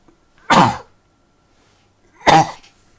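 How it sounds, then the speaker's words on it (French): Two sharp, explosive sneezes about two seconds apart, loud and close, with silence between them. "Excusez-moi, je vais éternuer."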